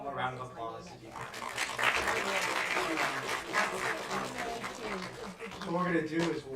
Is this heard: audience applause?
yes